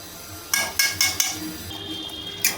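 Prawn malai curry gravy with ghee stirred in a pot, a spoon clanking against the metal rim about five times in uneven taps, loud and close with no talk.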